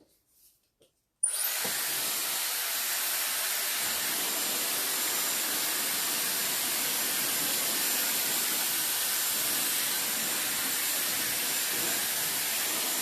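After a brief quiet moment a Dyson Airwrap hair dryer switches on and blows with a loud, steady hiss that continues unbroken.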